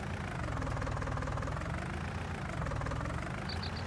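A truck engine in Farming Simulator 19 idles with a steady, continuous low rumble at constant loudness, with a faint high chirp near the end.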